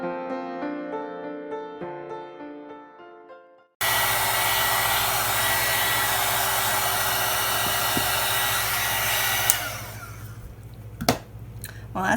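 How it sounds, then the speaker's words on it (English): A small heat gun blasts hot air to dry paint on a craft piece, a loud, constant close-up roar that starts abruptly after a few soft notes and cuts off near the end, followed by a few clunks. "I've got this little heat tool, heat gun. Got it for Christmas, and this is the first chance I've had to actually use it."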